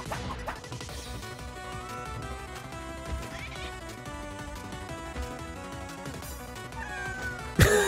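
Repeated video game cat meows from Spelunky 2 sound over continuous game music and clattering effects, ending with a sudden loud crash; no voices are heard.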